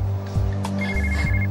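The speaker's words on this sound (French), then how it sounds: "le téléphone de Clara se met à sonner" A telephone rings in a French TV drama episode, a close electronic ring pulsing twice over a low background hum.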